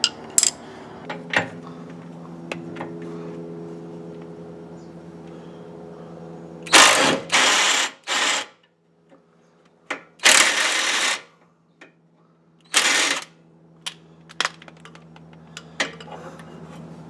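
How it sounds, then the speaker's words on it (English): Cordless impact wrench spinning a 19mm bolt off the rear shock of a classic Porsche 911, with several loud buzzing bursts of varying length standing out sharply over a quiet background hum. "I'm going to use my cordless impact to pull that one off right there"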